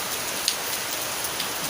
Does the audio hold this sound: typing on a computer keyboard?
no